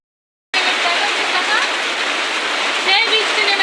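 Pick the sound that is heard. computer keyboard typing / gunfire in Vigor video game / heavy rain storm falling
heavy rain storm falling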